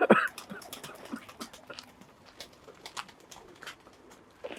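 Pigeons cooing nearby amid outdoor background noise, with a louder burst at the start and a few soft scattered calls throughout.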